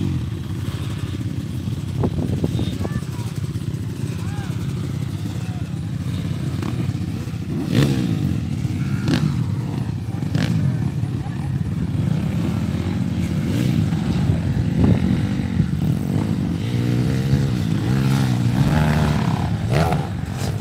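Yamaha YZ250 two-stroke motocross dirt bike ridden at a motocross school, engine rising and falling through revs as it passes, heard at a distance with outdoor track ambience.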